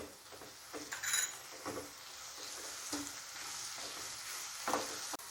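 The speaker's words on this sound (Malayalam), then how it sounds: "ഇനി നമുക്ക് നല്ലപോലെ ഒന്ന് വഴറ്റിയെടുക്കാം" Onions sauté with green chilli and curry leaves in a hot pan, sizzling steadily while a utensil stirs and clinks against the metal several times.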